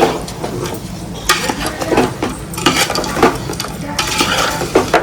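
Mutton head curry being stirred in a metal pot, with loud, busy scraping and clanking of the spoon over a constant sizzle, and rhythmic strokes recurring throughout.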